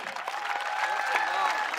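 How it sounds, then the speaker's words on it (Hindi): Audience applause at a school speech event in honour of the management, a steady broadband wash of clapping lasting under two seconds, with faint voices mixed in. "तो एक बार जोरदार तालियां होनी चाहिए मैनेजमेंट के लिए"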